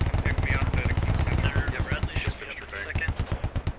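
Gunfire in the tactical shooter Squad during an esports match: rapid, evenly spaced bursts of automatic shots ring out close and loud while a commentator talks over them.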